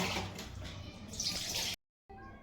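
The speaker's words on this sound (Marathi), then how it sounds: "पुन्हा एकदा मी अजून दोन पाण्याने भाजी धुवून घेणार" Water splashes and sloshes as chakvat leafy greens are rinsed in a basin, close and fairly soft, then cuts off briefly before resuming.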